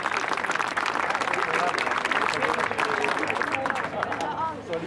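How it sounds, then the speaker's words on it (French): Applause at an equestrian show-jumping prize-giving ceremony, steady crowd clapping under the announcer's continuing voice and some background chatter. "Je crois qu'on peut les applaudir."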